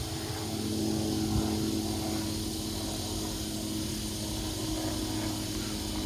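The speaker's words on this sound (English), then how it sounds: "I got a helicopter." A helicopter passing near a thunderstorm produces a steady, moderately loud rotor drone with a low throbbing hum that stays constant throughout, with no speech.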